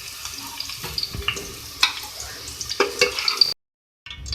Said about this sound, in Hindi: शलजम भी जो है हमारी आधी कुक हो चुकी है फ्राई में ही